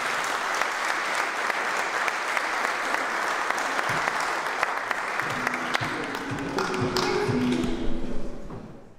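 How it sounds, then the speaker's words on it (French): Audience at a public debate on secularism gives a dense, steady round of applause that holds loud for several seconds, then thins into scattered claps and a few thumps before fading out. "S'il vous plaît, un tonnerre d'applaudissements."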